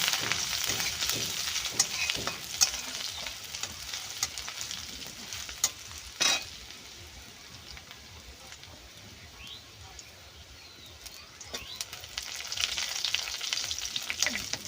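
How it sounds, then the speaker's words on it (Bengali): Finely crushed garlic paste fries in a pan for a jute leaf curry, giving a steady sizzle broken by sharp clinks and scrapes of a spatula as it is stirred. "ছোটো করা রসুন বাটা দিয়ে এটা ভালো করে নাড়াচাড়া করে নেব।"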